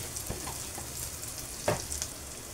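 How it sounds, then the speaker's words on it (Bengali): Ginger and garlic tempering fries in hot oil for Bengali egg tarka, a soft steady sizzle with a couple of brief stirring clinks, close and alone with no talk. "আদা রসুন ফোড়নটা দিয়ে একটু ভেজে নেব"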